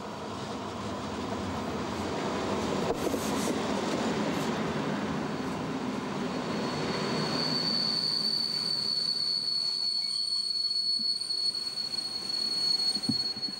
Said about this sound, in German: Der fünfteilige Traditionszug hat in Bernau einen Betriebshalt.